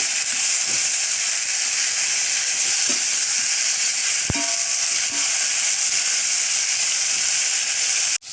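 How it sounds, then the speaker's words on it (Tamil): Chopped tomatoes sauté in hot oil for a cabbage sodhi, a loud, steady hiss and sizzle held close to the pan, broken once by a sharp metallic clink before cutting off abruptly. "இப்போ தக்காளி பழத்தை சேர்த்துருங்க. இது ஒரு 1 நிமிஷம் வதங்கணுங்க."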